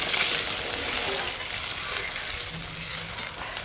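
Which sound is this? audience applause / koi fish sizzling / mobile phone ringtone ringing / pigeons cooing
koi fish sizzling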